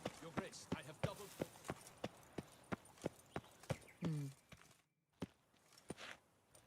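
Steady clip-clop of the horse Roach's hooves in The Witcher 3, a regular walking rhythm of crisp close steps, a brief snort or whinny midway, then a short silence before a few more steps.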